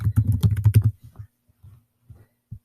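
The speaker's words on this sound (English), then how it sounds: "You just start typing their name" Quick run of keyboard clicks up close, a burst of rapid taps followed by a few scattered keystrokes and a final single tap.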